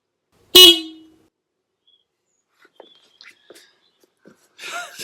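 A Denali SoundBomb Mini horn fitted to an Indian Scout Bobber motorcycle gives one short, loud, bright blast that dies away fast. Faint scattered small sounds follow at a low level.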